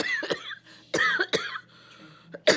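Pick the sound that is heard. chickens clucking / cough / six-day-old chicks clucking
cough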